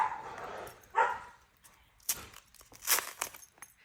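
Several pet dogs play with tug toys indoors, letting out a few short, sharp barks and yips among scuffling and bumps, close and uneven.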